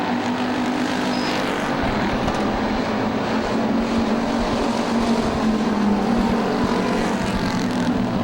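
Race cars lap Motordrome Speedway, a dense, continuous roar of several engines at steady volume, rising and falling slightly as cars pass.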